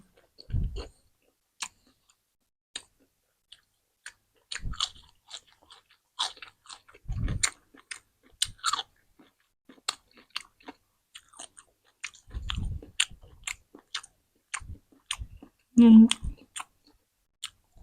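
Crisp, crunchy chewing of grilled squid comes in irregular bursts, close to the mic, with brief soft speech between them.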